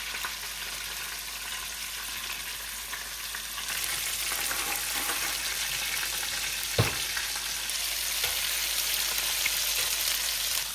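Golden chicken cutlets fry in a pan with a steady, close hissing sizzle that grows a little louder partway through, punctuated by a couple of brief pops or knocks.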